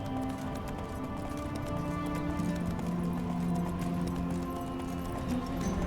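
Roach, a horse in The Witcher 3, trots along with a steady, continuous clip-clop of hooves under a dense layer of game music and ambience, loud and close throughout.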